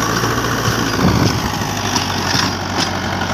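Mahindra 575 single-clutch tractor pulling a 7-foot rotavator, its diesel engine running at a steady loud drone with a constant low hum and faint intermittent clanks.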